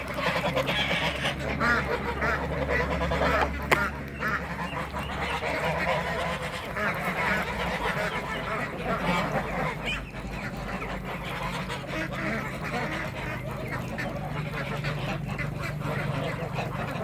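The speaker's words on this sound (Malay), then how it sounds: "Ya, bro, itik. Tengok, umur sebulan." Month-old ducklings on a farm quacking continuously as a busy flock, near and fairly loud against outdoor background noise, with no talk over them.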